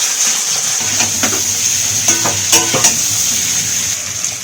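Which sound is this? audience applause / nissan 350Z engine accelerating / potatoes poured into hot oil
potatoes poured into hot oil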